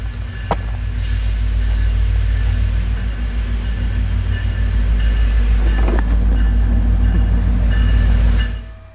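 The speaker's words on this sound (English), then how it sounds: "Anyways, the train finally pulls in." Passenger train rolling steadily into a station on a river route, a loud continuous low rumble of wheels and cars with brief squeals and clanks, filling the whole stretch before cutting off at the end.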